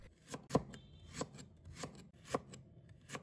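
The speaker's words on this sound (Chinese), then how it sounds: "准备1块去皮的生姜，把它切成薄片" A knife slices a peeled piece of fresh ginger into thin pieces on a cutting board, producing about six crisp, close chopping taps at a slightly uneven pace.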